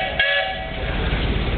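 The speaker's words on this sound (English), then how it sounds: "there's a whistle call" A steam engine whistle sounds at a steam threshers' show parade, a loud, sustained call heard close and holding steady for the whole moment.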